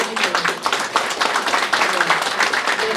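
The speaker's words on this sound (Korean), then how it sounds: "그럼 우리 큰 박수로 어머니를 좀 해드리고" An audience at a talk concert in Sejong claps for a mother in a dense, continuous burst of applause, with a voice faintly heard under it.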